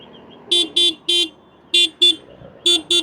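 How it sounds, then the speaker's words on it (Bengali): A faulty motorbike horn sounds harsh and buzzy in seven short blasts, grouped in uneven bursts of three, two and two, loud and close with no voices. "আমার হর্নটা হঠাৎ করে এমন শোনাচ্ছে"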